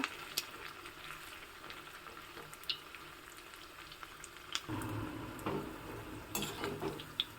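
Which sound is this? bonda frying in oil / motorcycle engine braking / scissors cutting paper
bonda frying in oil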